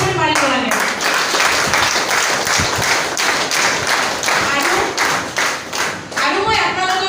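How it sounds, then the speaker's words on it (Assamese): Audience applause for a company at an Assamese business or network-marketing gathering, a dense, steady wash of many hands clapping that runs the whole time, with voices faintly mixed in. "আমি এটা জবৰদস্ত হাত চাপৰি মাৰিব লাগে"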